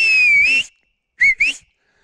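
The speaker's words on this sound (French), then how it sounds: "j'en suis à 2-3 coups de sifflet" A whistle is blown to recall an American Akita in a forest: one sustained, shrill blast, a pause, then two quick short blasts, loud and close.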